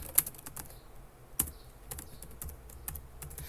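Quiet keystrokes on a computer keyboard, tapped at an uneven pace with a couple of sharper, louder key presses standing out, close by in a still room.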